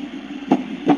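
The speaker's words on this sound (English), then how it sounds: "Next one is a heartbeat" Heartbeat setting on a HoMedics white noise sleep machine: a low droning hum with two thick, muffled thumps of a heartbeat, close and clear.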